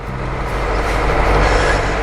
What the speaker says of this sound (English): And we're just in the truck at the moment, so do excuse the background noise.